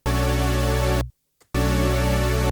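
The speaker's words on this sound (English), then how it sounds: "spread these out and detune them" A loud, buzzy detuned sawtooth synth chord stab in a 90s house organ style sustains for about a second, cuts to silence, then rings out again, thick and shimmering with a chorus-like wobble.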